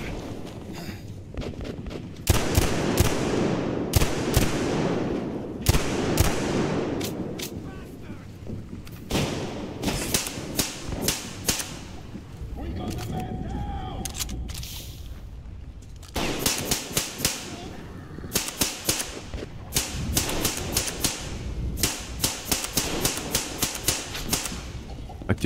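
Gunfire in the video game Metro Exodus, with bursts of sharp rapid shots clustered in several runs and quieter stretches between them. Voices talk over parts of it.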